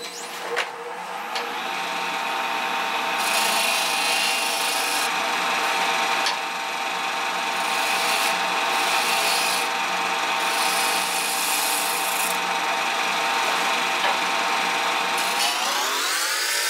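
A wood lathe spins steadily while a gouge cleans up the cut on a turned wooden vase, a constant loud whirring hum with a raspy scraping texture that rises and eases in stretches before winding down at the end.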